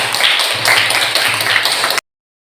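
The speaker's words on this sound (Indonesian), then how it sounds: "Silakan tepuk tangan." A classroom of students claps in a steady wash of applause for about two seconds during a history lesson, close and fairly loud, then stops abruptly.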